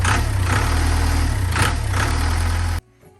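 A boat's diesel engine, just coaxed to start after starter spray went into the air intake, runs with a loud, steady low rumble and faint rhythmic pulsing, then cuts off abruptly, leaving near silence.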